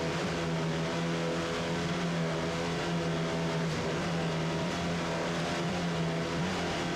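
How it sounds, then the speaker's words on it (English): Offshore racing powerboats at the start of the 1993 Virginia Beach Offshore Grand Prix roar with a loud, sustained, droning engine hum heard from a distance, steady throughout with no talk. "this 1993 Virginia Beach Offshore Grand Prix. Just listen to those engines."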